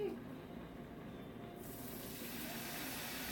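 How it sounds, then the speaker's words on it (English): Marsala wine sizzles in a hot pan as it deglazes, a steady soft hiss that swells slightly and holds evenly throughout, close and without talk. "Listen to that sizzle."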